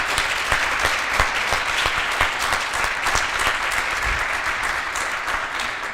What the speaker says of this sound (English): can we get one more round of applause for our amazing supporters and our speakers and the choir?